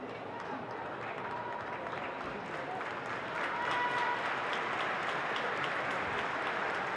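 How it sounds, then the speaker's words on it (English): Stadium crowd applauding at a women's Championship football match between Sunderland and Birmingham City, a steady broad wash of clapping and crowd noise that swells slightly midway and holds, with commentary speech running over it. "But applause rings round as Jessie Stapleton is back on her feet."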